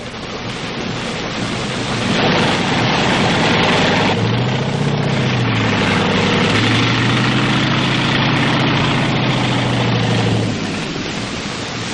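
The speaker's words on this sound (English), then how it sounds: "Then run the tank up on the track until the front bogie is within about 1 foot of the end." WW2 tank engine running loudly during track installation, a heavy, dense roar with a low rumble that rises and then holds steady, with no talking.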